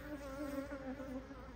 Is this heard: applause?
no